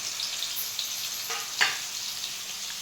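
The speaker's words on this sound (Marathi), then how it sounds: "मग आता तेल ओतलं, आता त्यात मिरची टाकते." Green chilies fry in hot oil for khichdi, a faint, even sizzle with one sharper crackling burst near the middle.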